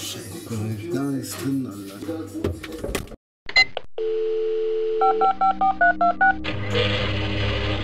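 A run of electronic phone keypad beeps, about seven short tones in quick succession, preceded by a steady tone, with talking earlier in the clip.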